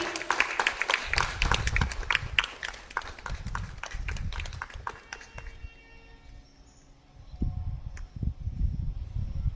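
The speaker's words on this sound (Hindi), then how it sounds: "तालियां बजती रहना चाहिए।" Audience at a school Independence Day celebration clapping in a dense, steady burst that fades to near quiet partway through, then low thumps and bumps resume toward the end.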